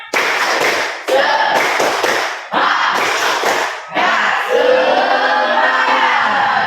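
A school group claps together in a loud, rhythmic pattern of quick bursts, ending in a longer stretch of sustained clapping.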